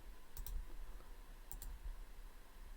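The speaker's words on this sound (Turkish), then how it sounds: "yapıştırıyor ve enter'a basıyorum" Computer keyboard keys click twice in quick double taps, close and crisp against a faint steady hum, as a command is pasted and the enter key is pressed.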